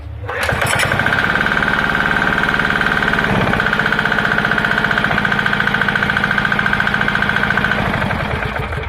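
A Kanto KT DP630 diesel water pump engine runs steadily after a hand pull start, a loud, close, continuous chugging with a sharp startup burst at the beginning, heard alone.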